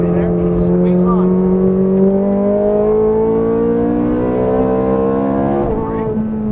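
A Ferrari F430 Scuderia accelerating hard on a race track; the loud, close engine note climbs steadily in pitch, with a shift near the end, while a voice speaks over it.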